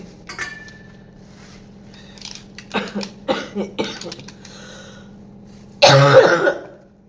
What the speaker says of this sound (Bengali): কি কাশি হচ্ছে